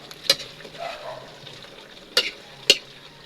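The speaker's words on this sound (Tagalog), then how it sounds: "Haluin natin guys." Vegetables being stirred in a pan for ginataang gulay, a vegetable dish cooked with coconut milk: three sharp scraping clatters of a utensil against the pan over a faint, steady sizzle, with no talk.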